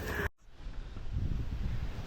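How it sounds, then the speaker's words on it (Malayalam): Steady low wind rumble buffeting the microphone after a brief dropout, continuous and fairly loud with no voices. "ഈ ഭാഗത്ത് തന്നെ നല്ല കാറ്റുണ്ട്"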